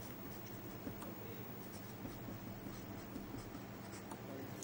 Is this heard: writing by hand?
yes